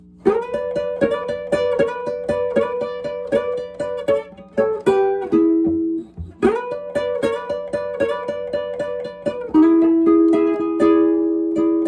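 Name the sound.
Chicago blues electric guitar lesson phrase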